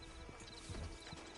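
Quiet hoofbeats of a horse clip-clopping in Red Dead Redemption, a few soft irregular thuds over a low background hum, with no speech.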